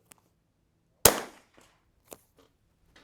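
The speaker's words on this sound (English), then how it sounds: "let's see if we can shoot that old 1-incher in the" A single sharp rimfire rifle shot from an Anschutz 1727F or Vudoo firing Eley Ultra Gen 2 ammunition, close and loud with a short decaying tail, followed by faint clicks of handling the rifle.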